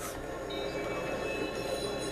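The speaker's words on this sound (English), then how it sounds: "I thought I was actually gonna get hit by the train" A train rumbles past in the Watch Dogs video game, a loud, steady roar of wheels and cars close by with no talk over it.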